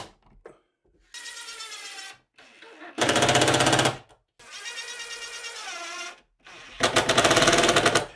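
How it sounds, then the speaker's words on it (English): Power driver sinking four screws into a plywood quadratic diffuser panel, four separate bursts of loud whirring motor and ratcheting bite, each lasting about a second with short pauses between, close up. "And then it's just a matter of driving in the four screws that will hold it in place."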